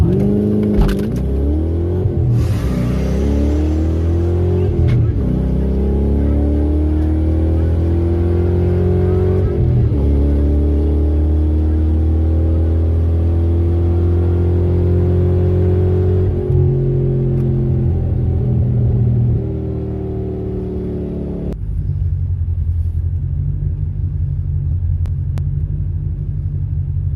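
Mustang drag cars, including a mid-8-second 1989 hot rod, roaring down the racetrack at a Ford event, a sustained heavy engine rumble with rising revs, fading toward the end.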